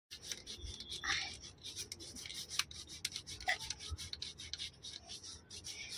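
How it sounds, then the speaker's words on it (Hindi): Stiff brush scrubbing dirty feet clean, irregular close rasping strokes with a few sharper scrapes, fairly quiet with no talking. "ये देखिए ब्रश मारेंगे तो पैर साफ हो जाएगा।"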